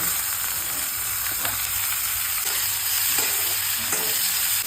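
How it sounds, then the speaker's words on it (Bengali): Cumin, kasuri methi, hing, garlic, onion and chili frying together in hot oil, a steady close sizzle with faint stirring scrapes, no voices. "জিরে দিচ্ছি, কস্তুরি মেথি, হিং, রসুন, পেঁয়াজ, লঙ্কা একসঙ্গে দিয়ে দিচ্ছি"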